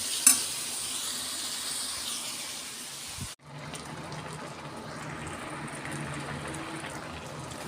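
Bitter gourd sautéing with onion, tomato and chili in a pan: a steady close sizzle and frying hiss with a brief stirring clatter partway through, no voices.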